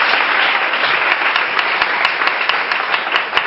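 Steady applause from an audience at a church ceremony, dense continuous clapping with a few sharper individual claps standing out, sustained throughout.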